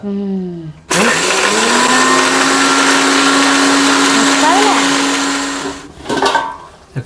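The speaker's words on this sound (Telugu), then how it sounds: "ఇప్పుడు మిక్సీ పడతాను" A mixer grinder whirs loudly for about five seconds grinding a masala of coconut, coriander, garlic and salt, starting abruptly after a brief voice and cutting off near the end, followed by a few clatters.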